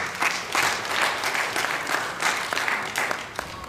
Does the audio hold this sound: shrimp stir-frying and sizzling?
no